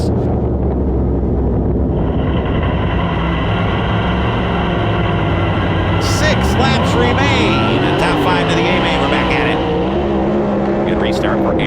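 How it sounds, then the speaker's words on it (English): Race cars roar around LaSalle Speedway during a heat race, engines droning loud and continuous with rising whines as they pass close, while a commentator talks over them. "Here comes Aaron Moran on the high side, looking to make it 3 wide down on the inside"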